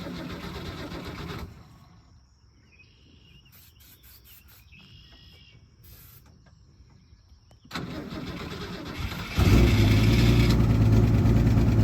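A 1965 Ford Econoline's carbureted engine, its points uncleaned for two years, settles into a steady idle; the rumble rises abruptly after a quiet stretch where crickets chirp, then holds loud and continuous.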